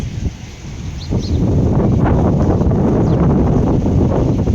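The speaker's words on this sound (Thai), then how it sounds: "มันลมอะ" Strong wind buffets a microphone outdoors during a cold, blustery day at a rural village festival, a steady loud roar with gusts and faint rustling, no talk.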